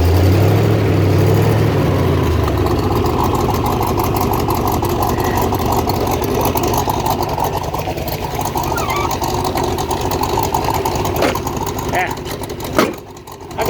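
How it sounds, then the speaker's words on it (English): A 1967 Corvette V8 idles with a noisy heat riser, a steady rumbling engine with fast ticking rattle running continuously close by, someone talking over it. "The heat riser's making some noise."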